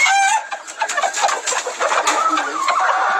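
A two-year-old rooster, now being put with hens this year, calls among other birds, with a busy, continuous stream of clucks and chirps close by and no talking.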